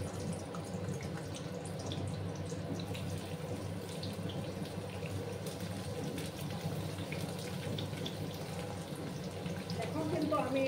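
Chopped ash gourd pieces sizzle steadily in hot oil in a pan, a continuous close crackle and hiss with faint clinks near the end.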